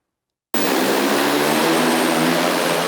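A delivery drone flying over a residential neighborhood in eastern Virginia produces a loud, steady whirring roar that starts abruptly and holds constant, alone without talk.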